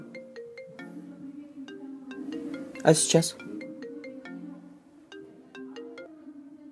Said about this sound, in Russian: Она звонит.